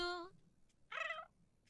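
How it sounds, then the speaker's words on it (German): A pet cat in The Sims 4 life-simulation game gives two short, clear meows, the first brief and the second slightly longer, against a quiet background. "Wir lernen jetzt unsere Katze kennen"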